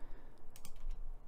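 Keys clacking on a computer keyboard during MIDI piano arranging work, a short run of quick, fairly close taps with no voices.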